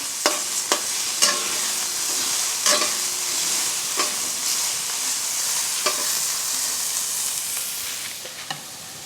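Vegetables stir-fry over a charcoal grill, hissing in a steady, bright sizzle while a utensil clicks and scrapes against the pan every second or so.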